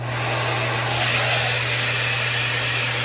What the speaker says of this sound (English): make sure you have your hair dryer on low heat.